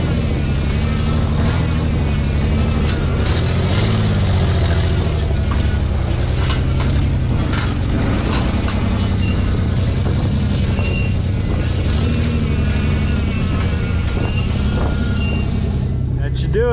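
A Ford Bronco with breakage after off-road trail use rumbles close by at low speed with steady engine drone and a few surging revs while being driven up onto a trailer, with faint talk underneath.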